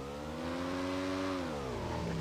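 Motorbike engine in PUBG Mobile Lite, a steady close drone holding for about two seconds, the pitch rising slightly and then falling toward the end, heard alone with no talking.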